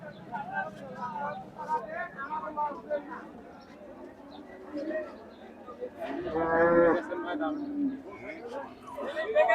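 At a cattle market, a large Friesian bull gives one loud, drawn-out moo partway through, amid crowd noise and people talking nearby.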